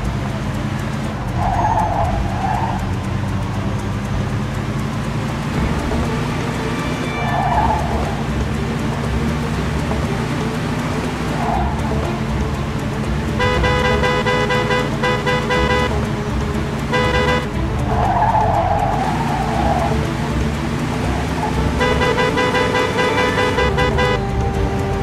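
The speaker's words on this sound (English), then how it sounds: "Pursuit of a speeding vehicle." A car chase in Mafia 2, with a speeding car's engine droning steadily, tyres squealing in repeated skids, and bursts of horn or siren-like tones recurring over continuous traffic rumble.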